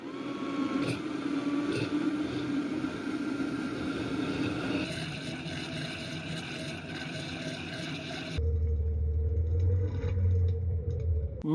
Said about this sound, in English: blend it until super creamy and smooth